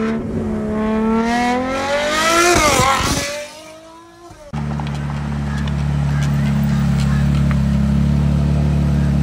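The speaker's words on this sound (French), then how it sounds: "V12, tu sens qu'il est en échappement libre de chez libre, frérot. La voiture, elle tire des coups de feu à chaque fois." A Ferrari 812 GTS Tempesta Nera V12 with a straight-through exhaust screams as it revs up, then snaps off and drops into a deep, rumbling idle, loud and close.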